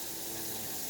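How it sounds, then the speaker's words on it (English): Kitchen tap running into the sink during turmeric and ginger tea preparation, a steady, close, constant rush of water with no voices. "Got my water running over here"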